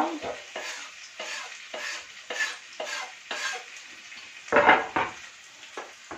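Tomato and onion frying in a pan, a soft sizzle under repeated spoon stirring and scraping strokes in a regular rhythm, with one louder clattering scrape near the end.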